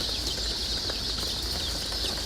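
Baby chicks of the Whiting True Blue breed at a hatchery peep in a constant dense chorus, a steady high-pitched chirping wash from many birds at once.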